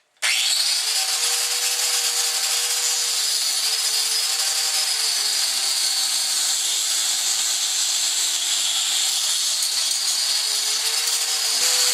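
A Skil angle grinder runs steadily at full speed, giving a loud, bright, continuous whine close by with a slight wavering in pitch. It keeps going without a break and no one speaks.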